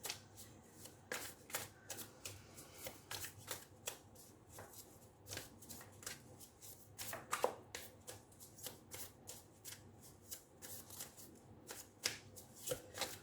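Light Seers Tarot cards are shuffled by hand in quick repeated riffling bursts, crisp close-up flutters and taps at a fairly steady rhythm, quiet and alone.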